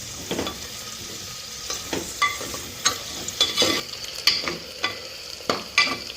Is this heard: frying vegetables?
yes